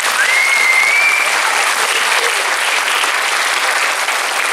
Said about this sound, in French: je vous demande d'applaudir surtout